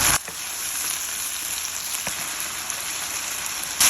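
Garlic and ear mushrooms sauté in a hot pan, giving a steady crackling sizzle with a few sharp pops, close and constant, and no voices are heard.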